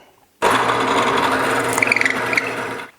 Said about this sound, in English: I can flip it over and drill it from this side.